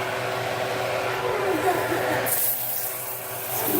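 Andouille sausage sizzles as it drops into a hot roux for Cajun chicken and sausage gumbo: a steady, loud hiss that grows brighter and sharper partway through, heard up close with no talking.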